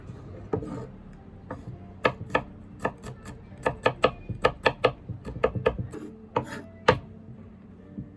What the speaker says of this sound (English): We only need 1 garlic today. And I cut them, chop.